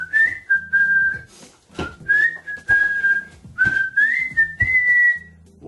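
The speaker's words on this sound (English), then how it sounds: "Whistle. Okay, whistle. Whistle." Clear, close human whistling in a series of bright sustained notes with gliding pitch, repeated in several phrases with short breaks between them.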